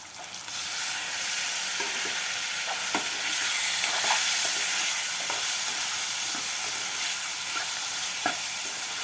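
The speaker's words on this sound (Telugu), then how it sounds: "ఉల్లిపాయలు బాగా ఎగిపోయినాయి చక్కగా చికెన్ వేసుకుందాం మరి" Chicken pieces hit well-fried onions in a hot pan for a home-style chicken curry, producing a loud, continuous sizzle and hiss with intermittent clinks of stirring throughout.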